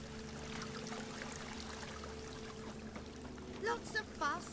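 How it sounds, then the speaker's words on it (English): Rain in The Witcher keeps up a constant watery hiss, with short voiced calls cutting in near the end. "Lots of fuss over lots of rain."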